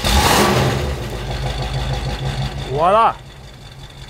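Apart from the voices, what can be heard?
Chrysler Imperial convertible 413 V8 engine starting and idling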